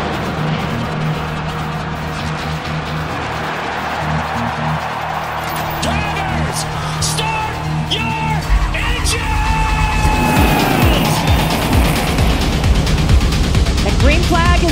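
Pack of NASCAR race cars at Talladega, a continuous loud roar of engines swelling as the field passes, with crowd and commentary noise mixed in and the sound growing heavier toward the end.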